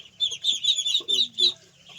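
A crowd of young Muscovy ducklings, a batch of around five hundred, sends out rapid, high, shrill peeps in quick overlapping bursts nearby, fading out toward the end.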